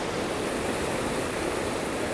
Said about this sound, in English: The river's so loud